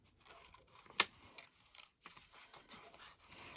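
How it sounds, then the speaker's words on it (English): A single sharp snip of scissors cutting around a printed image from vintage handkerchief material, close and brief, with soft paper rustles and handling noise around it. "So we're just going to fussy cut around this bit here."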